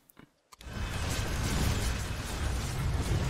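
In StarCraft II, a Zerg hatchery is destroyed: a couple of soft clicks, then a sudden burst that swells into a loud, rumbling, crackling roar that keeps going to the end.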